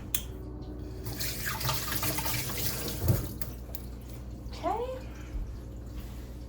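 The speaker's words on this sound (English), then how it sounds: "I'm going to give my hands a quick rinse." A kitchen tap runs while hands are rinsed under it, a steady wash of water with splashes and a thump partway through, and a voice speaks briefly over it.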